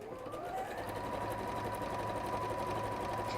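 A sewing machine runs steadily on fabric, stitching a zigzag pattern with a continuous close whirring hum and fast rhythmic needle chatter throughout, no voices.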